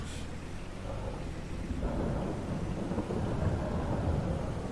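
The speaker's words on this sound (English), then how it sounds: "It's a little stormy out today." A thunderstorm rumbles over a rural town in the game Silverrun Forest, with a continuous low roll of thunder and steady rain hiss building slightly in strength.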